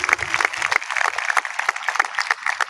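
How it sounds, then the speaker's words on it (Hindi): A crowd of high school students and parents claps together for a few seconds, producing dense, steady applause throughout. "एक बार आप तालियां बजाएं तो मुझे भी अच्छा लगे।"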